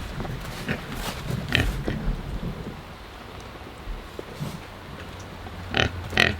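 Pigs grunt and snort in low, irregular bursts close by, mixed with the patter of rain on a surface during a wet spell on a farm.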